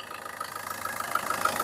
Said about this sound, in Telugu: ఇంజిన్ సౌండ్ మాత్రం సైలెంట్ ఉంది, బాగా మరి రఫ్ ఏం వాడలేదు కాబట్టి ఓకే ఉంది.